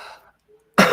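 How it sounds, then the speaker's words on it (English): A single short cough, close and sharp, after a brief quiet stretch. "I've got a bit of a cough today"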